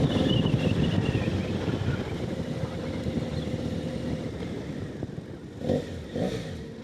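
Riding a motorbike through Zurich, with heavy wind buffeting the microphone over a low engine drone that eases slightly, and a couple of brief bumps near the end.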